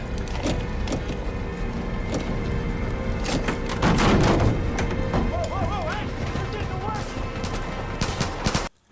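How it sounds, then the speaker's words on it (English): Gunfire from enemies in Far Cry 5 crackles in dense bursts over the game's ambient noise, with a louder flurry of shots in the middle before it cuts out at the end. "we have to run away while someone is shooting at us"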